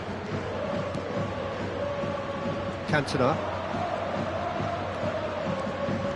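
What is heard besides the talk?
stadium crowd reacting in a football video game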